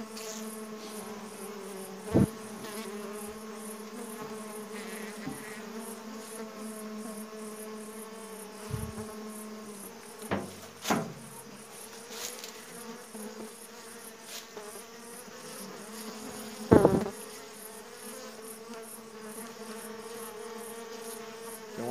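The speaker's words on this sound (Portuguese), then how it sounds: "Uma abelha que tá tentando te ferroar até pelo celular." Honeybees buzz steadily and close during a honey harvest, a constant insect drone with a few sharp knocks and handling bumps over it, and no talk.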